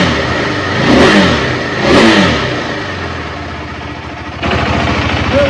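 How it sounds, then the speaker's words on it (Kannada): A KTM Adventure 390 motorcycle with its stock exhaust revs up loudly and up close, two quick throttle blips climbing and falling back to a rough, steady idle, with no talking. "ಸ್ವಲ್ಪ ರೆವ್ ಮಾಡ್ತೀವಿ ಅಷ್ಟೇ."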